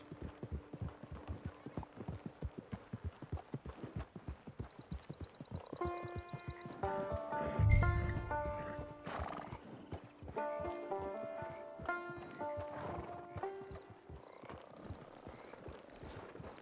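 Steady, rhythmic clip-clop of horse hooves in a PS4 video game throughout, with music swelling in over the middle stretch and then fading back.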